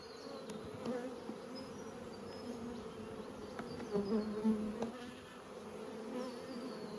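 Bees buzzing steadily around five-frame nucleus hives being moved into nine-frame supers at Coramba, a continuous close hum with individual bees passing near, no talk.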